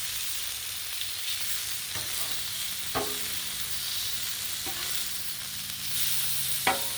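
Country style ribs sizzle steadily on a Blackstone griddle, a continuous hissing fry broken by a few sharp taps and scrapes as the meat is flipped.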